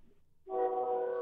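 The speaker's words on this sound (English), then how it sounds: "You have trains too? That's my train." An early-morning train sounds its horn in one sustained, loud, harmonic blast that starts abruptly after a brief low rumble and holds steady to the end.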